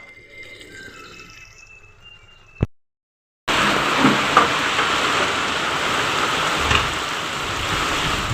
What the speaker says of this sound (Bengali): এখন বৃষ্টি পড়ছে বৃষ্টি বিকেলবেলায় পাঁচটার মতো বাজে